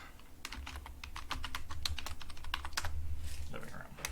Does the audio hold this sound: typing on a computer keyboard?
yes